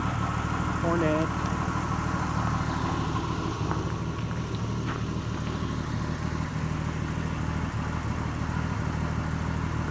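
A 1977 AMC Hornet's inline-six engine idling with a slight stutter, a steady close low rumble running throughout with occasional faint irregular catches.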